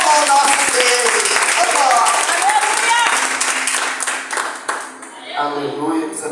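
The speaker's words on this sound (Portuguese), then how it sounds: "As palmas louvam o nosso Deus." A church congregation claps in praise at an evangelical service, with steady loud applause mixed with voices and music that fades toward the end.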